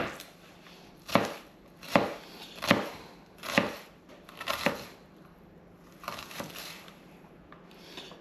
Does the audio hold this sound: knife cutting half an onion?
yes